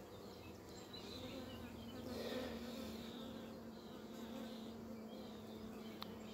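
Honey bees swarm and buzz around a queen being marked, a dense continuous hum close by and fairly faint, with no talking.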